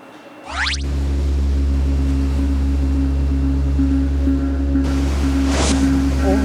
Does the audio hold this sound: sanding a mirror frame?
no